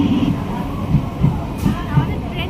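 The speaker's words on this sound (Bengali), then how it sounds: "আমাদের ট্রেন ঢুকে গেছে।" Commuter train pulling into Thakurnagar station, a low rumbling with rhythmic wheel clacks over the rails, steady and fairly loud nearby.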